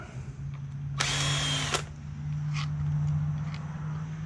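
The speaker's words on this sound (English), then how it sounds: "I'm going to take these two machine screws out" A power drill briefly whirs for under a second while removing machine screws from a Craftsman weed wacker, loud and close against a steady hum, followed by a few faint clicks.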